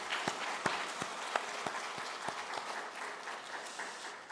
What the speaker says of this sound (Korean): 우리 초등부와 우리 특성한 아이들을 위해서 다시 한번 크게 박수하겠습니다